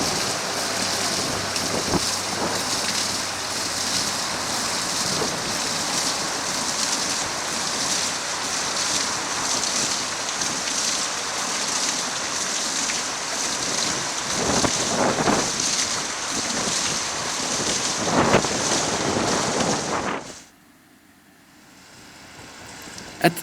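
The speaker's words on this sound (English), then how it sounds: "hydraulic ramp pump, a concrete water pump that uses the energy of flowing water to beat water" A Demotech concrete hydraulic ram pump driven by flowing water gives a steady loud rushing, splashing roar with occasional thumps, running continuously before cutting to near quiet at the end.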